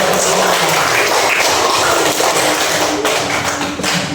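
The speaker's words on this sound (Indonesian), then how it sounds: "Tepuk tangan semuanya." Primary school classroom of third graders clapping together, a loud, dense patter of many small hands that runs steadily throughout.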